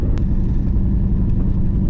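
A 2000 Chevrolet Camaro Z28 engine rumbles steadily with a deep, continuous low-end drone and a few faint clicks, heard loud and close without talk.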